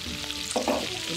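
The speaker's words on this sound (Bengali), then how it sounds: "এই ডিমটা জাস্ট আমরা একটু পেঁয়াজ টেয়াজ দিয়ে ভেজে আমরা হচ্ছে এখানে স্টার্ট করে দিই" Egg frying with onion in a pan at an outdoor village picnic, a soft steady sizzle with a brief scrape of stirring midway, close and moderately loud.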